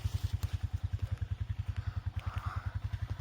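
A four-wheeler ATV engine idles close by with a steady, fast thumping chug, even and unbroken throughout with no voices over it.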